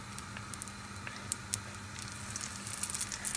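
Sfenj dough frying in oil gives a steady, gentle sizzle with fine crackling pops scattered throughout, close and quiet, without talk.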